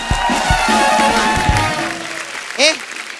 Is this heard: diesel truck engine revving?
no